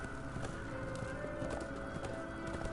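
Horse hooves clopping at a steady trot from Death's summoned horse in the game Darksiders 2, with a neigh mixed in, heard faintly and fairly distant under a constant tonal background hum.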